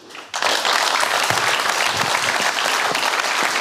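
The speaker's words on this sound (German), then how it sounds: "Applaus." A television talk-show studio audience breaks into sudden, loud applause as Germany's labour minister Hubertus Heil is introduced, with the dense clapping sustained evenly throughout.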